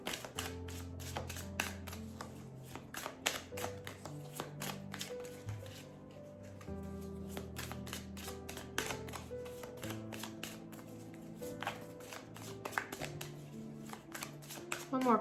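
Tarot cards being shuffled: quick, close riffling clicks and snaps over steady background music.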